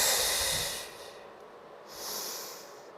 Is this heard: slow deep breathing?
yes